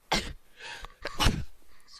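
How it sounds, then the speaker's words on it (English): A person sneezes near a microphone while playing a video game, giving two sharp, close bursts about a second apart. "I just sneezed."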